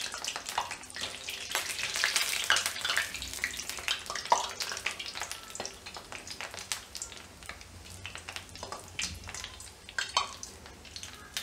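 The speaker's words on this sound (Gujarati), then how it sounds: "આ રીતે એને તળાવવા દેશું થોડી વાર" Methi gota, fenugreek fritters, fry in hot oil over a low flame with a continuous bubbling sizzle and occasional crackles and pops, close and steady throughout without speech.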